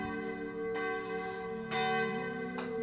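Church bell tolling as a radio drama sound effect, a deep ringing strike with a long sustained hum, struck again about every second and alone with no voices.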